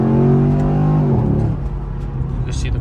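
A Chevy SS with an LS V8 engine drives along, its deep engine drone rising in pitch, then dropping off as it shifts and settles, heard up close from inside the car and fairly loud.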